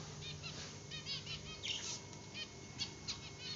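Birds flap their wings close by in quick fluttering bursts, mixed with high chirps and tweets, moderately quiet and without talk.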